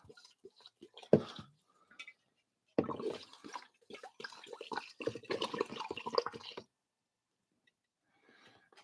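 Seven-year aged rum is poured over coffee grounds, giving intermittent liquid trickling and gurgling in several bursts with quiet gaps between, close by.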